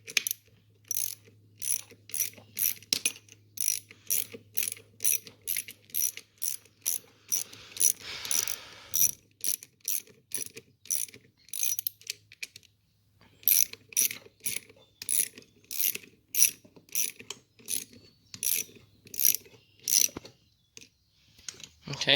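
Wrench ratcheting down bolts on a Cub Cadet 1720 garden tractor transmission, rapid bursts of close metallic clicks repeating in steady rhythm with brief pauses, a voice talking faintly underneath.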